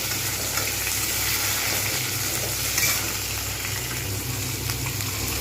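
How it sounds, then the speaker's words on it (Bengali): Thinly sliced potatoes and flat beans frying together in hot oil, a steady, close, even sizzle with light stirring that holds throughout without any talk. "আলু এবং সিম আমি একসঙ্গে দেবো এটা কিন্তু একসঙ্গে ভাজা হবে"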